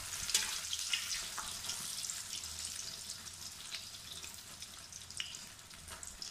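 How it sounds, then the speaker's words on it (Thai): An egg fries in hot oil in a pan, a soft, steady hiss and crackle with scattered small pops, faint and continuous throughout, with no voices. "เราจะทอดจนกว่าอีกด้านจะสุกนะคะ"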